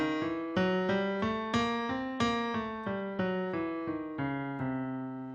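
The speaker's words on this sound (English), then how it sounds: "if I start on C and I alternate half steps and whole steps, I get a scale that sounds like this" Diminished scale from C, alternating half and whole steps, played as about ten clear, evenly spaced single notes on a sustained pitched instrument, each struck and decaying, stepping through the scale alone.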